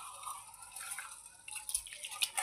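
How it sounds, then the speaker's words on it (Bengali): Water splashes and drips while rice is washed by hand, a soft, irregular trickle and sloshing up close that grows busier toward the end, with no talking. "চলো এই চাউল করে ধুয়ে দিই ভালো করে"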